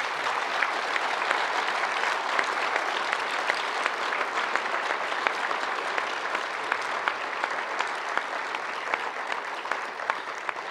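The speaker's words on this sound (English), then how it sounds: "Let's give all 4 of our candidates a round of applause." An audience at a Senate candidate debate in Norfolk, Nebraska applauds with dense, steady clapping that fills the hall and holds at an even level throughout, with no talk over it.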